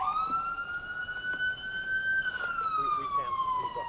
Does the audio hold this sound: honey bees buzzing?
no